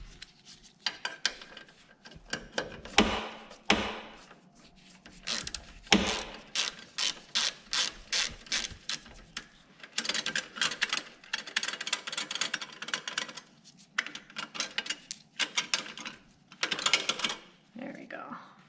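A hand ratchet loosens a bolt on a Poulan Pro PR271 snow blower during a carburetor swap, making close, rapid clicking bursts in quick repeated strokes with short pauses between them.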